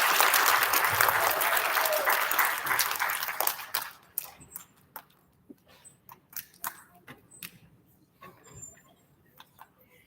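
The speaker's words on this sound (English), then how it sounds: "Big round of applause for our UPK friends." Audience applause fills a school student recognition ceremony at an elementary school, loud and dense for about four seconds, then thinning into scattered claps and faint voices.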